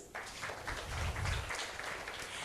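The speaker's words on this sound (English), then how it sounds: "A big round of applause for this." Audience applause at a holistic health conference in 2023, a dense steady clatter of many hands clapping that swells briefly in the middle, heard alone without talk for a couple of seconds.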